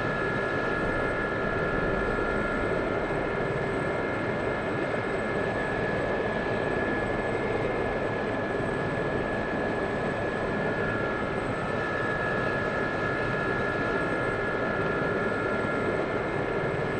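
Aircraft engines in the DCS World combat flight simulator during a Cold War campaign mission: a loud, steady drone with a sustained whine that runs unbroken for the whole stretch, with no talking.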